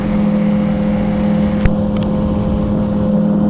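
A light aircraft engine drones steadily in flight, a constant close hum heard from inside the cabin with a brief click partway through.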